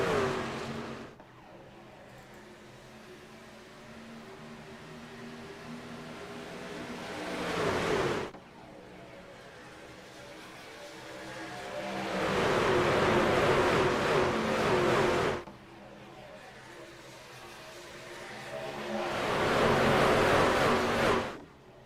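NASCAR trucks roar in a pack at Daytona in the iRacing simulator during a 200-mile charity race, engines droning steadily and swelling in three loud surges as the field passes close by.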